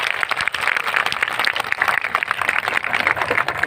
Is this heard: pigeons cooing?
no